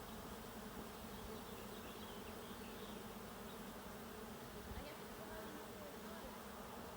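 A honey bee swarm buzzes steadily and densely as the bees walk into a newly placed hive, a continuous close hum with no speech.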